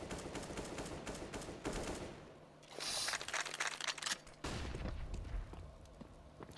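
Gunfire in a professional Counter-Strike match on the Overpass map, with bursts of rapid automatic shots and sharp cracks through the wall, interspersed with quieter gaps and clicks, loud and up front.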